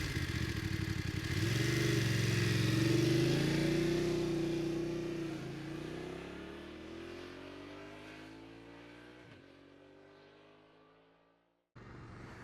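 A Voge DS900X motorcycle is ridden away, its engine revving and shifting through rising tones loud and close at first, then fading steadily as it pulls off into the distance.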